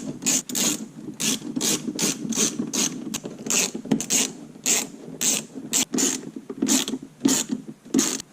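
A ratchet clicks in short repeated bursts, close and crisp, while screws are driven to fasten the shift boot on a Mazda Miata during a short shifter install, with no voices over it.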